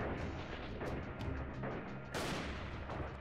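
Repeated gunshots in the video game Freeman: Guerrilla Warfare, a dense run of sharp cracks and booms over a continuous rumble, with one louder blast near the end.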